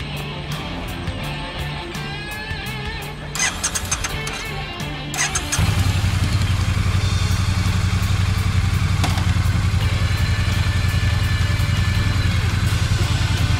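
A Triumph T100 motorcycle at a dealership starts up after some quieter clatter and then idles with a loud, steady, close engine rumble that holds to the end.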